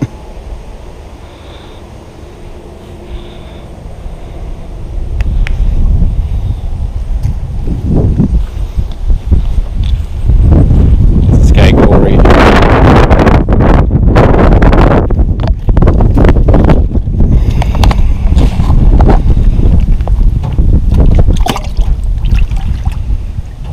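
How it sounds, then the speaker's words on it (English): Strong gusts batter an outdoor microphone on the water ahead of a big storm, starting softer and swelling into heavy low rumbling buffets that dominate the second half, with no speech. "Hopefully you guys can hear me without that wind."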